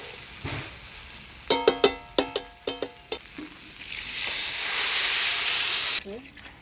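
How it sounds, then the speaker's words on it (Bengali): Water poured into a hot pot of rice, lentils and vegetables for khichuri, after a few ringing clinks of metal, gives a steady loud hissing sizzle lasting a couple of seconds before fading. "সবজির সাথে চাল ডাল দিয়ে ভালো করে নাড়াচাড়া করে নিলাম। এবারে জল দিই।"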